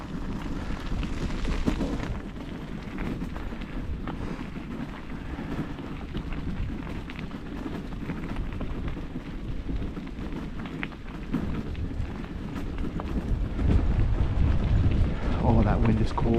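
Cold wind gusting outdoors beside an old railway line with weathered telegraph poles near Quorn Station, a steady, loud rushing roar buffeting close by, swelling stronger toward the end.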